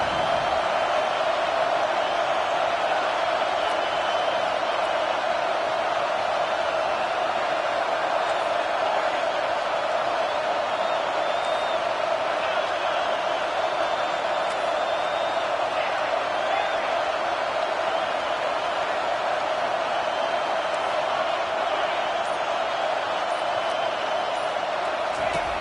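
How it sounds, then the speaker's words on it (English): A home crowd at a football game roars in a dense, steady wash of cheering that holds loud and unbroken throughout, with a commentator's voice faintly under it. "how nice is it to have the home crowd going absolutely bananas?"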